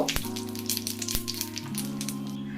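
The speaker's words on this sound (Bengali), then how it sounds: "দুটো শুকনো লঙ্কা আর দেব একটা তেজপাতা ওমটাকে একটু ভেজে নেব" Dried red chillies and a bay leaf fry in hot oil with cumin seeds for a Bengali potol chingri, a soft crackling sizzle under a steady tonal hum, with two sharp knocks early on.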